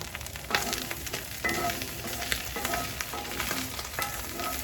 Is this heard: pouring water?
no